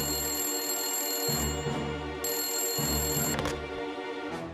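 A telephone bell rings in repeated bursts with short gaps, loud and close, and no talk over it.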